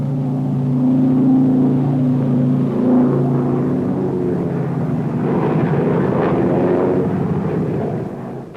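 Warplanes roar overhead during a 1945 attack on ships off Okinawa, a steady loud droning mix of aircraft engines and rumbling noise from old wartime newsreel footage, with no talk.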